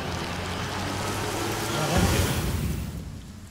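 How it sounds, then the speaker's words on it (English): Rain spell cast in the video game Divinity, a steady broadband hiss of falling rain that swells around the middle and then fades slightly, with voices faintly present underneath. "Time to make it rain then again."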